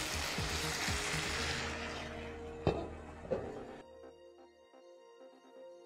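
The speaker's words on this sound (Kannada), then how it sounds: "ಪನ್ನೀರ್ ಹಾಕ್ಕೋತಾ ಇದ್ದೀನಿ, ಫ್ರೈ ಮಾಡಿರೋದು." Paneer frying in a pan gives a steady, fairly loud sizzle that fades after a few seconds, with a couple of sharp clinks from stirring or the pan mid-way.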